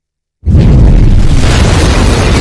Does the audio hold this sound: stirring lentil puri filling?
no